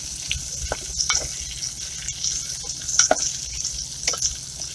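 Sausages browning in a pot while making sauerkraut and sausage, with a steady sizzle and scattered scraping stirs of a utensil against the pot, fairly quiet and close.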